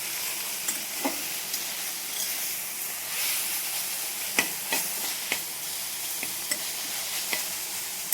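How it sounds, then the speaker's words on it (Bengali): Steady frying sizzle and hiss from leafy greens in a hot wok, with scattered scraping clicks as they are stirred and tossed, close and fairly loud, no voices. "এরকম নেড়ে নেড়ে ভাজবে, ভিতরে যে কাঁচা কাঁচাগুলো থাকে না"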